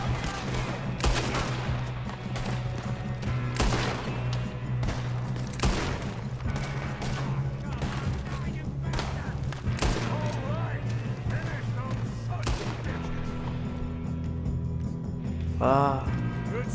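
Gunfire rattles through a Red Dead Redemption 2 shootout against O'Driscoll gang members, with repeated sharp rifle and pistol shots cracking in irregular bursts across the whole stretch, mixed with game dialogue and background score.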